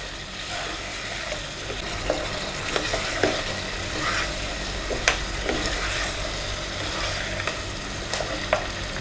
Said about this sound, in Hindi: इसमें हम डाल देंगे लहसुन का पेस्ट और इसे भूनेंगे हम थोड़ा।